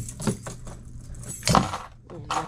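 Keys jangle and clink in two short bursts as someone struggles to hang them on a hook, close by and alone with no talking.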